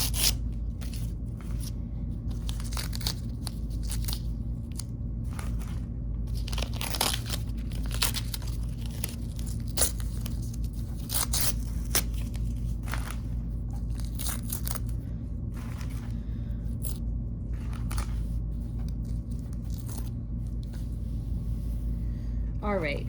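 Scissors snipping and trimming embroidery fabric for a sampler block, with a steady run of short crisp cuts and rustling cloth close by over a constant low background hum.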